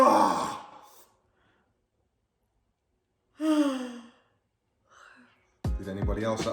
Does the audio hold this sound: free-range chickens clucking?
no